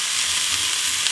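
Bacon fries to crispness in a pan, giving a loud, close, unbroken sizzle and crackle for a brief moment with no talking.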